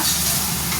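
Upma mixture sizzles in a pan as it is stirred, a brief, dense frying hiss close up with no voices.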